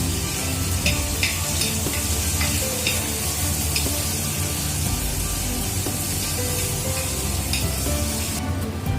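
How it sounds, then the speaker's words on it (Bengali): Paneer fries in a pan until browned, giving a steady, close sizzle that runs the whole time, with occasional light scrapes and stirring clinks and no talking. "ওই পাশে পনিরটা একটু আমরা ভেজে নিচ্ছি লাল করে"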